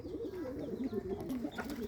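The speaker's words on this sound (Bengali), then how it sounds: "রাজশাহী গিরিবাজ কবুতরে কি সুন্দরভাবে ডাকাডাকি করতেছে" Rajshahi Giribaz pigeons coo close by in low, rolling repeated calls that overlap each other, fairly soft and unaccompanied by talk.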